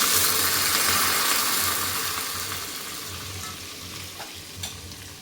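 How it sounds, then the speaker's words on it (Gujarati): Cumin, curry leaves and green chili paste sizzle in hot oil for a tempering, a dense, bright crackling hiss close up that slowly fades, with a few stirring knocks near the end. "મસ્ત તડકો થઈ ગયો છે."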